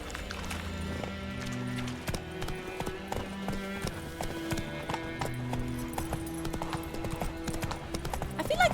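Plotka, a horse in The Witcher video game, gallops with steady rhythmic hoofbeats and an occasional whinny, heard over layered game music at moderate volume.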